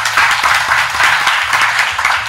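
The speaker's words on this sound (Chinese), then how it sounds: "掌声来鼓励一下。" Crowd applause at an outdoor village political gathering in Taiwan, a steady dense wash of clapping with scattered sharper claps running throughout at high level.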